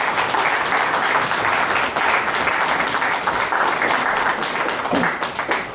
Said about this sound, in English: can we have another round of applause for Professor Salami's book?